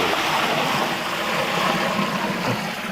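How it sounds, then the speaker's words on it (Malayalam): A steady, dense stream of water pours into a cooking pot holding green chillies, a continuous splashing rush with no talking. "കുറച്ച് വെള്ളം ഒഴിച്ച് കൊടുക്കണം."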